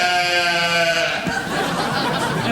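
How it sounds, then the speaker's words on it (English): A sheep bleats in a studio setting, a wavering harmonic call lasting about a second, followed by noisy crowd laughter and chatter. "Oh, is that the sheep?"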